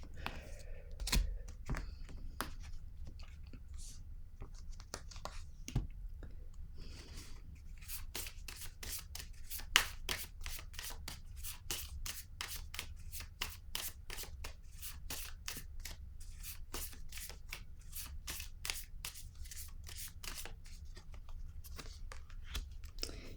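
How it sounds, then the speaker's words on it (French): A deck of cards is handled and shuffled up close, with soft rubbing at first, then a long run of rapid, even riffling flicks before a card is drawn. "Je vais piger une autre carte"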